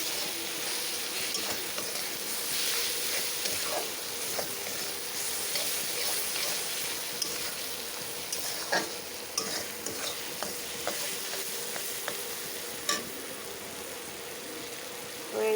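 Ginger garlic paste frying and being stirred in a pan for a chickpea dal, a steady close sizzle with frequent scraping stir clicks throughout, no talk.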